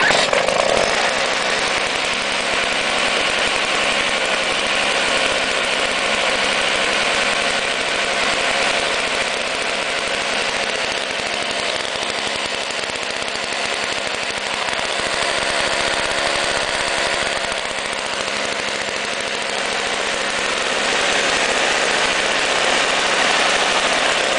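An old Ariens snowblower engine on electric start, choked, runs at a steady buzzing idle, loud and close, holding an even drone throughout with no clear start-up burst.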